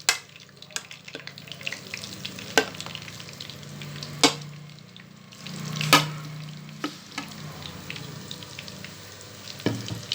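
Chicken pieces for Chicken 65 fry in hot oil, giving a steady soft sizzle with occasional sharp pops and stirring clatter, close by and without talk.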